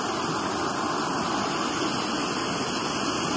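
A river flows steadily nearby, a dense, continuous broadband rush of moving water with no breaks and no talk over it.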